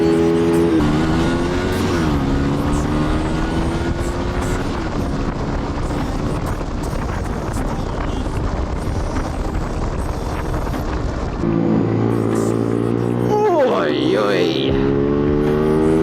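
A KTM Duke motorcycle on rural UK backroads roars at high revs, close and loud under heavy wind buffeting, its engine pitch climbing and falling through gear changes, with a voice speaking briefly over it.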